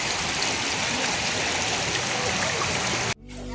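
Running water near a palace in Seoul, a steady broadband rush like a small stream or fountain, close and continuous, then cut off abruptly near the end.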